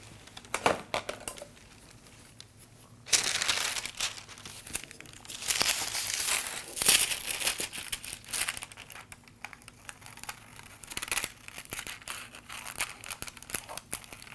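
Scissors cutting away excess pattern paper from a sloper fitting shell pattern; close crinkling and snipping of stiff paper, intermittent at first then a denser burst of rustling and crumpling, with no talking.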